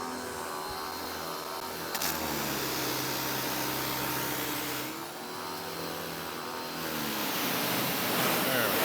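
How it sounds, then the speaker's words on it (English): Pressurised water from a hose sprays steadily against a truck built as a Smokey and the Bandit tribute, a continuous broadband hiss with slight swells, and someone briefly speaks over it. "Now I'm just going to hose this off. Come on, pressure."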